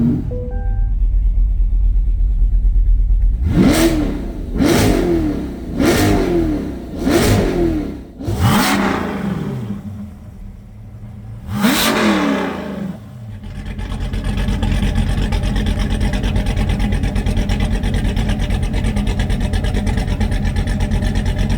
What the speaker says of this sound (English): we'll let you enjoy the sounds of Danny's C8 Corvette Stingray